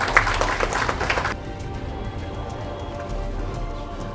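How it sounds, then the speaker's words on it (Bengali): At an annual art exhibition of the Baruipur Rabindranath Tagore art centre, an audience gives a brief burst of clapping that cuts off after about a second, leaving quiet room noise. "আজকে প্রদীপের জন্য একটা জোরে হাততালি হয়ে যাক"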